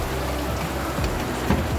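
Rain falls steadily outside open windows, making a dense, even hiss of drops on surfaces. A few louder drips sound nearby.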